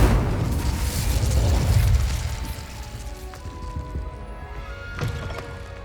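Incendio fire spell cast in Hogwarts Legacy: a loud whooshing burst of flame that swells and then fades into a crackling tail, with a smaller flare near the end and no talking.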